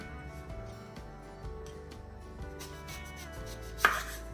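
A knife cuts through a sweet potato on a board, with a few dull thuds and scraping cuts spread across the clip and one sharper knock near the end, over a faint background tone.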